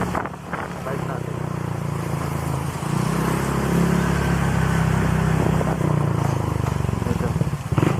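A motorcycle engine running steadily up close on a ride out to a surf point, a continuous low droning rumble that swells slightly near the end, with some talk over it.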